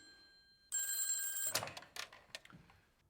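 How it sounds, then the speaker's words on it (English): A telephone rings in a scene from the film A Christmas Story Christmas, a bright electronic ring that starts abruptly after a quiet tone and is followed by clattering handling noises. "The phone rings."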